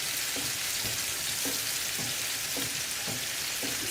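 Rice stirred in a pot as it cooks, a steady bright sizzle with soft, regular scraping strokes every half second or so, close and unaccompanied by talk.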